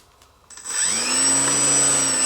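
Upgraded electric motor of a Galloping Ghost RC car spinning up after near-silence, settling into a steady high-pitched whine with a rising tonal sweep, loud and close with no talking.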